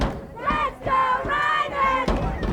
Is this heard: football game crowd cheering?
yes